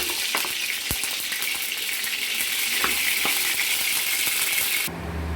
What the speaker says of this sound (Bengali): কড়াইতে দিয়ে দেবো আমরা সরিষার তেল